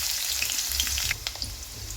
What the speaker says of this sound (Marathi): कांदा छान असा परतून घ्यायचा आहे.